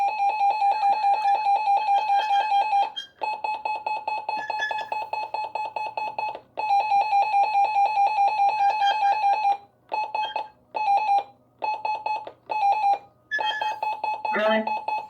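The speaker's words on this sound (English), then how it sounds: "that is the siren test" Siren test tone from a RadioShack 12-255 weather radio: a loud, close electronic warbling beep pulsing in long steady stretches, then breaking into shorter chopped bursts, with a voice briefly audible underneath.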